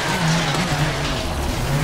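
Rally car in the video game WRC 4 on Rally Argentina's La Pampa stage, a loud continuous engine drone with tyre scrub as the car slides under handbrake, no speech.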